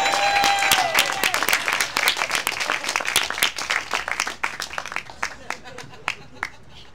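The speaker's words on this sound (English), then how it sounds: "Now clap" Audience clapping at a poetry performance in Miami, Florida: a burst of distinct, fairly close handclaps that thins into scattered claps and fades out, with a brief whistle or cheer at the start.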